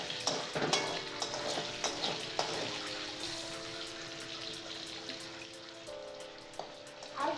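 Potatoes, lightly salted, fry gently in a pan for a winter rui fish curry with brinjal and lentil dumplings, a soft steady sizzle with scattered clinks of a spatula, fairly close and without talk.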